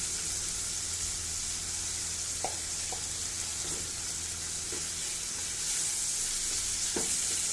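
Dried pomfret fish (rupchanda shutki) sautés in a pan with a steady, loud sizzle, while a spatula scrapes and stirs in occasional soft knocks beneath the continuous frying hiss.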